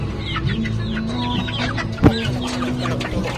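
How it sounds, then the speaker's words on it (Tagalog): Chickens cluck at close range in a busy stream of short, uneven calls, with one sharp louder squawk partway through. "Chicken."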